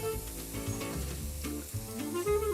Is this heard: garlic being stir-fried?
yes